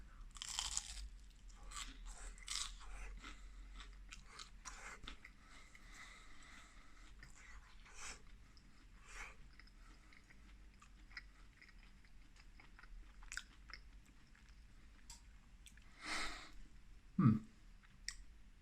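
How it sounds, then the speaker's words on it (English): Jumbo crispy filo prawns are bitten and chewed up close, with loud crunches at first that soften into wet, irregular chewing and clicking, plus one sharp thud near the end. "So these are some jumbo crispy phyllo prawns. Let's give them the old taste test."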